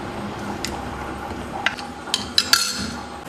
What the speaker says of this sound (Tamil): இப்போ நம்ம இந்த சாம்பார் பொடியை இதோட கலந்துக்க போகிறோம்.